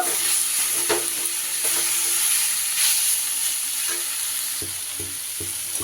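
Fried potato being stirred into a sizzling drumstick-flower (sajna phool) dish in a pan, a steady close frying hiss with scraping spoon strokes and a few soft knocks near the end.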